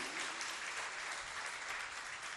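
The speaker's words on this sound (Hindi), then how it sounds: "तालियां तो बजाओ" An audience at a religious festival gathering claps steadily, a dense even wash of applause from a crowd held at a moderate level throughout.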